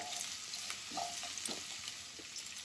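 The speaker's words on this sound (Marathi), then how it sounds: "नंतर हा कांदा थोडासा मऊ होईपर्यंत भाजून घ्यायचा आहे" Onion frying in a pan for Maharashtrian coriander rice, a faint, even crackling sizzle with a few light stirring clicks, heard alone and close.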